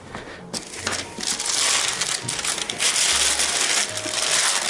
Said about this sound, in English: the big heavy pot, and I'm gonna drop the parchment paper right in it